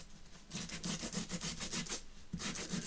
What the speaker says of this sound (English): give it a little sand